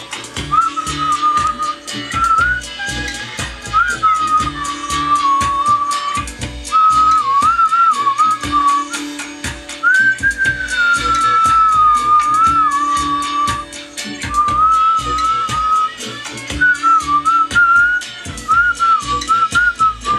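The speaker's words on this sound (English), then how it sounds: "So you've got to add them up while whistling." A person whistles a wavering tune in a steady stream of phrases, with short breaks, over rhythmic background noise.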